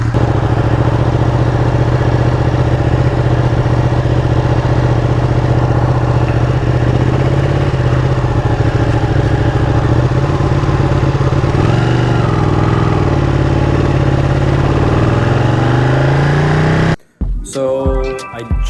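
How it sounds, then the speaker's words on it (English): Ducati 959 Panigale Corsa motorcycle engine idling with a steady, loud, rumbling drone close by, continuing evenly for most of the stretch before cutting off abruptly near the end. "My brand new Ducati 959 Panigale Corsa."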